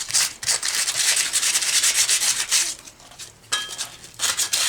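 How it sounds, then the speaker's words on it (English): Sanding on a four wheeler tire near a leak, with loud, rough scraping strokes in quick rhythmic bursts and brief pauses between passes, close up and without talk. "So I'm just gonna sand it down a little bit, because this is right around where it was leaking."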